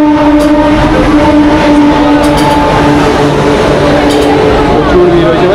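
A Santragachi MEMU electric train at platform 2 of a crowded station drones loudly and steadily with a tonal horn-like hum, up close, while voices murmur underneath.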